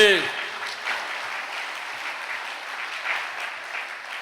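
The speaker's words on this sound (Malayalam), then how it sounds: "ഒന്ന് കൈ ഉയർത്തി കൈയടിച്ചേ" An audience at a Catholic retreat claps, a fairly close, steady burst of applause that starts loud and settles into a sustained patter for several seconds.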